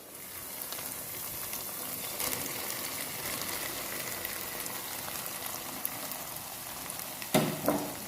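Fried cauliflower goes into a boiling Manchurian sauce and is stirred in the pan, giving a soft continuous sizzle and bubbling with a few scrapes and a sharper clatter near the end.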